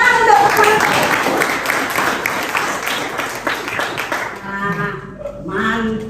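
Classroom applause during a lesson, a dense burst of many hands clapping loudly for several seconds before thinning out, with voices and a few scattered claps at the end.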